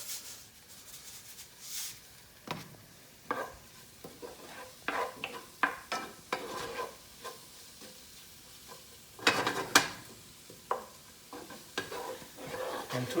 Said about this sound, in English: As you would do with onions typically in any recipe, you need to sweat them out a little bit so the taste comes out.